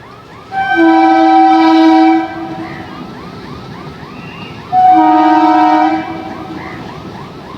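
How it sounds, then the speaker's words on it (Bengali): A train passing near the Kalyani Simanta rail gate sounds two long, loud horn blasts a few seconds apart over the continuous rumble of the moving train. "এবার দেখো ট্রেন"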